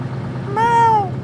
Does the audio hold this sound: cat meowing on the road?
yes